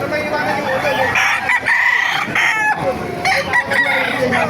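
Roosters crow loudly and repeatedly while chickens cluck busily all around, a dense and close farmyard chorus at a poultry market in Calumpit, Philippines.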